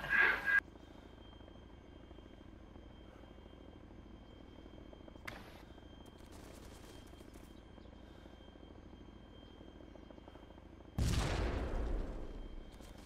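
A helicopter starting up in the video game DayZ: a sharp burst at the start, then a quiet low whine that swells into a loud, rushing rotor roar near the end.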